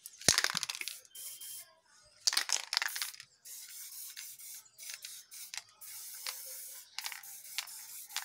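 A spray paint can hisses in repeated close bursts of varying length, some long and steady, others short, with quiet gaps and small clicks between them.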